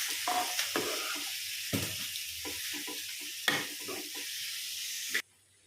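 Prawns fry in a pan with oil and masala, giving a continuous close sizzle broken by a few sharp stirring scrapes and clacks, then a sudden stop.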